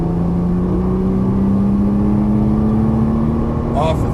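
Nissan GT-R engine accelerating on a race track, a steady rising drone held loud and close through the whole stretch, with a brief extra sound near the end.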